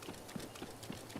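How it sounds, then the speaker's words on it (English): Hooves of a centaur-like horse creature in a video game clip-clop in an even, regular rhythm, about five quiet, soft footfalls with no talking over them. "We need to take a picture of this horse creature."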